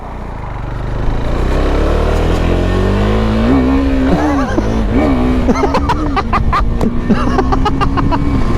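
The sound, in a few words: KTM motorcycle revving and accelerating, quick shifter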